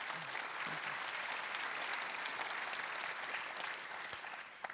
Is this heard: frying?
no